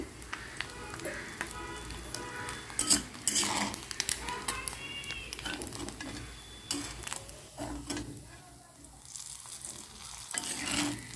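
Fried tangra fish being lifted from a pan of hot oil, with ongoing sizzling under intermittent clinks and scrapes of a metal spatula against the pan, close and moderately loud.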